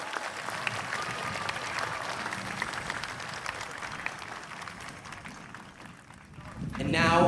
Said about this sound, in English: Can we please have a round of applause for the combined Los Altos High School Music Department